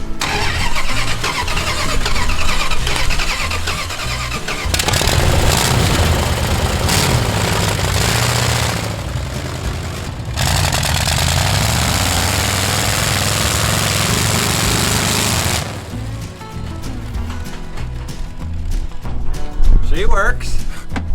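A RAD Charger car's engine cranks and catches, then runs steadily at idle for much of the stretch before dropping off, loud and close, with people talking over parts of it.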